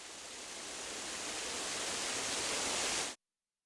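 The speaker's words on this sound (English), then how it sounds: "The scattering spray of the water of Midori Waterfall" Steady rushing hiss of spray from Midori Waterfall in Kenrokuen Garden, broad and even, holding for about three seconds before cutting off abruptly.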